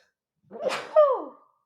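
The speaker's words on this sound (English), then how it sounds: "Oh my gosh, I think I have to sneeze." A single close sneeze: a sharp breathy intake followed by a loud, explosive burst that trails off, with no talking around it.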